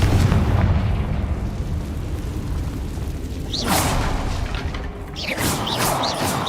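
A Confringo spell goes off in the game Hogwarts Legacy, landing as a loud booming blast with a crackling burst near the start, then a rumbling tail and bright whooshing magical flares over ongoing game effects.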